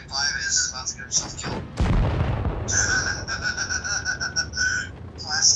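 A tank cannon shot in a tank video game lands as one loud, booming blast in the middle of the clip, surrounded by steady game sounds and electronic tones.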